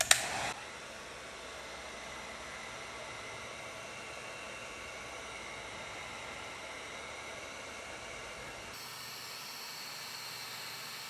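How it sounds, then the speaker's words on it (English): A heat gun warms the adhesive on a vinyl truck emblem, giving a steady faint blowing hiss that runs for about nine seconds before the tone shifts. "keep your heat gun moving"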